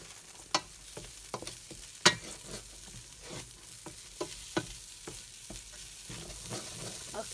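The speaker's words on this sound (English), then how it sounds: "now I'm going to add the garlic with onion and fry them a little bit" Garlic and onion frying in a pan with a soft steady sizzle, broken by sharp scrapes and taps of stirring, fairly quiet and close.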